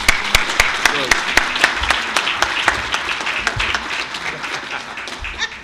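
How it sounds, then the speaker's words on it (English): An audience at a business awards function applauds steadily, a dense patter of many hands with sharper individual claps standing out, sustained and gradually thinning toward the end, heard alone without talk. "please give her another round of applause"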